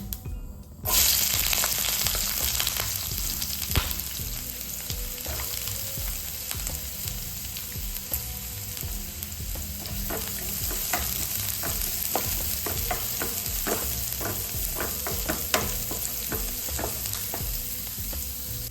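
Sliced onions with popped mustard seeds frying in hot oil in a pan: a loud, close, continuous sizzle that bursts in after about a second, with repeated stirring scrapes throughout and no voices.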